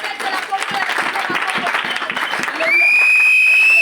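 A church congregation applauds and acclaims the name of Jesus, with dense, steady clapping and crowd noise throughout, then a sustained high whistling tone rising over the clapping near the end.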